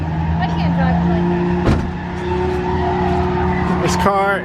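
A manual-transmission car with a failing clutch drifts, its tires squealing in long rising and falling screeches over a steady, loud engine roar, with a voice briefly audible.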